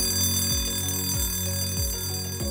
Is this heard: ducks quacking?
no